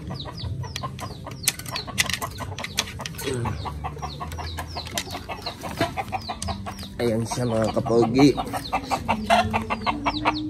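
Darag hens cluck and chatter nearby in repeated bursts, with someone speaking briefly over them and some scratching and rustling.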